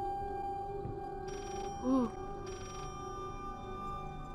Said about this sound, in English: that ringing needs to shut the fuck up